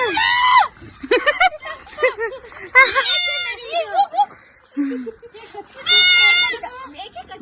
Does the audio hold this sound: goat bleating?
yes